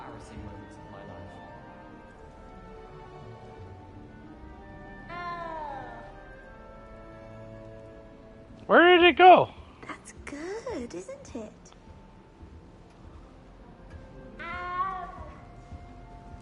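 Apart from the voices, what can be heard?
cat meowing in Hogwarts Legacy video game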